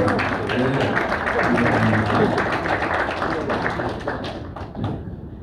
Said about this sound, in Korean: 여러분 다시 한번 뜨거운 박수로 축하해 주시기 바랍니다.